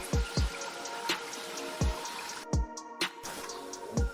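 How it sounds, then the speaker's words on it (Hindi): Chickpea cooking water pours into a pot of spiced, fried chicken, landing as a string of separate close drips and splashes in an uneven rhythm. "तो अब इसके अंदर मैं ये चनों का पानी निकाला ये डाल देती"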